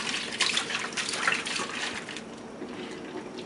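Hot water sloshes and gurgles inside a plastic water storage container as it is shaken, a close irregular swishing with a few sharper splashes early on, then fading to a softer slosh.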